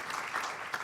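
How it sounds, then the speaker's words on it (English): Brief burst of audience applause at a health-sector collaboration conference panel session, a dense wash of clapping that is steady and moderately loud with no voices. "can we get some good applause?"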